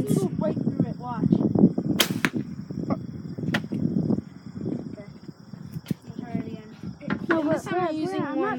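Several arrows are loosed from a bow at an outdoor deer target, making sharp snapping twangs and thuds scattered between people talking nearby.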